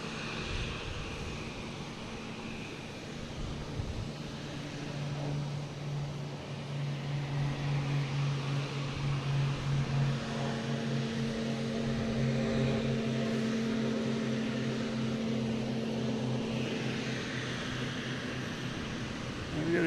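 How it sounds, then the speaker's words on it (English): Small Cape Air propeller plane taking off at Boston Logan airport, a steady engine drone rising and holding with audible tonal hum, heard from a distance under wind and outdoor background noise. "And it wouldn't be right without a Cape Air taking off"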